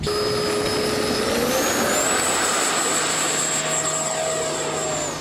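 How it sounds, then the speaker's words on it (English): An agricultural crop-dusting plane flies past with a steady droning engine whose pitch slides downward as it goes by, loud and continuous. "Here comes the plane."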